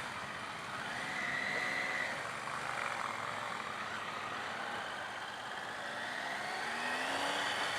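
A 2018 Triumph Tiger 800 XRt motorcycle engine on the move in sport mode, a steady moderate drone with rising and falling pitch and rushing wind, with no talking.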